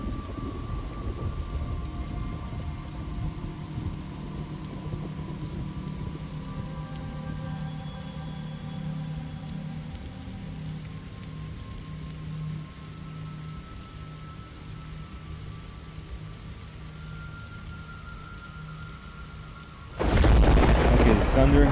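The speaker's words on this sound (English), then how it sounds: "thunder hit the house" Steady heavy rain and rolling thunder in the Residence Massacre video game, a continuous loud storm wash for about twenty seconds before a sudden sharp crash as thunder hits the house.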